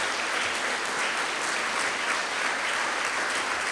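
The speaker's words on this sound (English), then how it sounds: "another round of applause" An audience at a historic marker unveiling claps steadily, dense continuous applause filling the room without pause.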